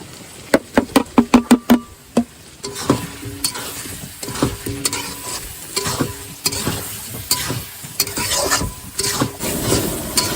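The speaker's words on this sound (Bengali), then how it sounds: "সমস্ত মশলা দিয়ে আলু কষাই করে নেওয়া হয়ে গেছে" Potatoes being stir-fried with salt, turmeric, cumin, coriander, black pepper and chili powder in a pan: sharp spatula knocks and scrapes in a quick burst, then steady stirring and sizzling, close and fairly loud, with no talking.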